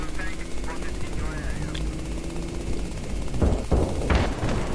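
Automatic gunfire in the video game Battlefield 3 rattles in rapid bursts, growing louder toward the end, over a low engine-like rumble and game noise.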